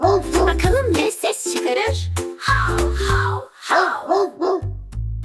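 A dog barks several times in short bursts, close and loud, with some musical accompaniment underneath.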